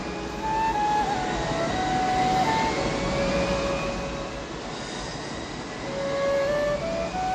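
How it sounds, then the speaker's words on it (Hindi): A jet engine roars in a long, steady rumble with rising and falling tonal whines, loud and sustained throughout, like a Boeing 747 on takeoff. "इंजन की गड़गड़ाहट"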